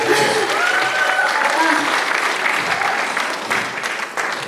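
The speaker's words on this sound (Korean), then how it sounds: "박수 주시죠" Audience applause at an autumn outdoor concert in Jungnang for a trot singer, a dense steady wash of clapping from a large crowd that fades slightly toward the end, with a voice talking faintly beneath.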